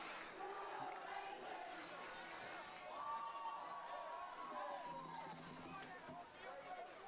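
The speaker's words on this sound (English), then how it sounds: "We have an excited crowd" Excited crowd cheering at a high school varsity football game, Westerly Bulldogs against Chariho Chargers, a steady broad roar of many voices throughout, swelling loudest in the middle with a few shouts rising above the babble.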